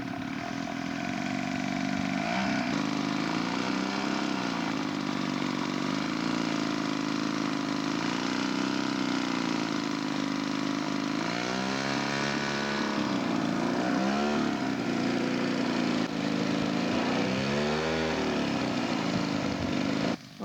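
Engine of a scale model Deperdussin racing plane taxiing at an evening flying event, a steady buzzing drone heard from a distance with brief rises in pitch as the throttle changes.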